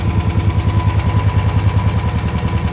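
A Honda generator engine, freshly serviced with a cleaned carburetor, new gas and an oil change, idles steadily with a smooth, even low throb and a rhythmic pulse, close and alone.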